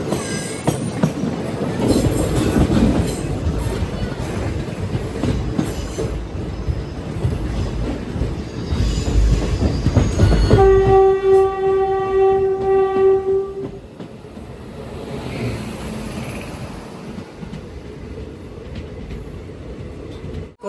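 The Malabar Express at Kollam railway station rumbles loudly past with rolling wagon noise, then its horn sounds one long, steady blast before the clatter fades into station ambience.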